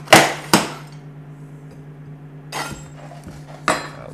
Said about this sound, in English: Tiles just come right out.